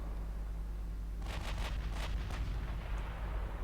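Battleship guns fire at a light cruiser in a dreadnought-era naval battle game, a quick cluster of several muffled, distant booms over a faint low hum, with no talking.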